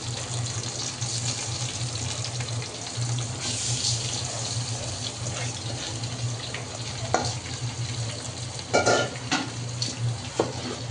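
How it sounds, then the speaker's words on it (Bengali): Pilaf rice with onion, bay leaf, cardamom and cinnamon fries in pure ghee while being stirred, giving a steady sizzle with intermittent scraping and clattering strokes and a low background hum. "আমরা এখন নেড়ে চেড়ে দিচ্ছি।"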